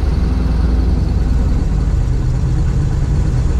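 Chevrolet C60 dump truck engine running steadily while driving, a loud, close, continuous low rumble with no talking.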